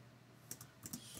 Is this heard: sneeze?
no